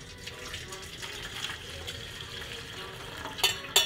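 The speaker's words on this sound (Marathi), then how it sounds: "गुळाचं पाणी गाळून घेऊ" Jaggery water is poured through a strainer in a home kitchen, making a soft continuous trickle with a couple of sharper clinks near the end.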